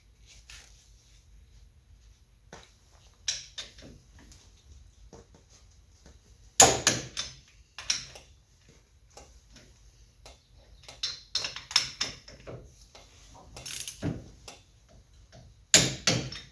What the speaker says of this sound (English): I'll take my torque wrench, set it to 60 foot-pounds.